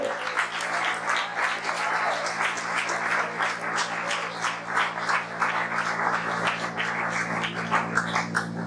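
A church congregation applauds in a long, steady burst of many hands clapping together, moderately loud and filling the room, with a low hum underneath.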